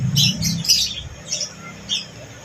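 A bird squawks several times close by, harsh raspy calls in short bursts separated by brief pauses.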